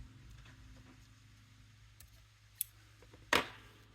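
Scissors snip through beading thread on a Ginko Kiss bracelet, a single sharp close cut after a quiet stretch with faint handling clicks, preceded by a small tick.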